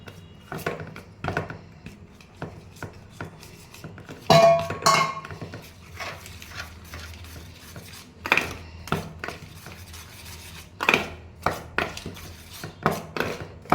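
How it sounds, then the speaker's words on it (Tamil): A ladle stirs jaggery into a pearl millet mixture, knocking and scraping against the pot with irregular clinks and a few sharper louder strikes, close by. "இப்போ வந்து இந்த வெல்லத்தை ஊற்றிக்கிட்டே இப்படி வந்து கரண்டி வச்சு நல்லா அப்படியே கலக்க போகிறேன்"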